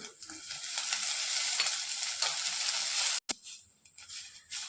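Chopped onions frying in oil in a pan for a spicy Khandeshi dish, giving a bright continuous sizzle with stirring scrapes, ending in a sudden break and a quieter sizzle.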